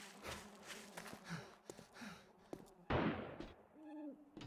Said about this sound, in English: Fucking bird.